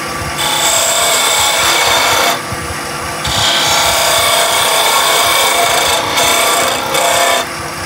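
Wood being turned on a lathe to shape a ball, a loud continuous rasping, scraping cut from the tool against spinning wood, with two brief dips where the tool lifts off before cutting resumes.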